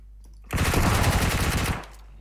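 One loud burst of rapid automatic gunfire rattles for about a second and a half in PUBG Mobile, the shots coming fast and close, then fading out.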